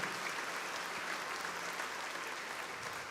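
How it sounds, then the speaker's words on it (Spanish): A church congregation applauding during a sermon, a steady, full burst of clapping from many hands filling the space throughout. "si le va a aplaudir a Dios, apláudale bien"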